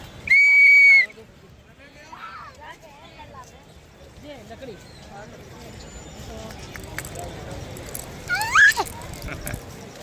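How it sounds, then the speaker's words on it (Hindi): A child blows a toy whistle once, a loud, shrill, steady tone of about a second near the start, followed by chatter and ambient noise from an outdoor setting, with a brief squeak later. "अब सीटी बजाएगी"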